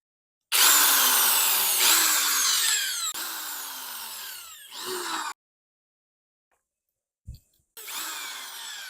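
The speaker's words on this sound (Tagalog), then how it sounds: "drill or barena para mabutasan yan" A power drill whines loudly in several bursts, its pitch sliding as it bores a hole into cement, with short pauses and a brief knock between runs.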